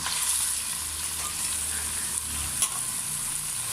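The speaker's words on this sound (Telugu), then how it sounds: "ఇవి చక్కగా ఫ్రై చేసుకొని ఇందులో ఈ చికెన్ వేసుకోవాలి." Chicken frying in ginger garlic paste gives a steady, close sizzle with a soft continuous hiss and a couple of faint stirring clicks, and no one speaks.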